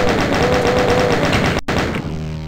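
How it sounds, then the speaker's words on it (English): Rapid, evenly spaced bursts of chain gun fire from Doom 2 ring out loud and close, broken by a brief gap before the shooting resumes and trails off. "Well, at least I've got the chain gun!"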